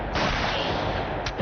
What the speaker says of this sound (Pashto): د ډز غږ شو